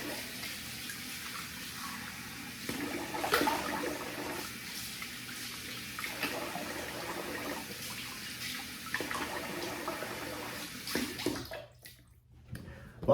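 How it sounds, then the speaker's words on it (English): Running water from a tap splashing as a face is rinsed after a shave with a Schick injector blade, steady and close for most of the stretch, with brief interruptions as hands cup and splash, then cutting off near the end. "I'm going to rinse the face here."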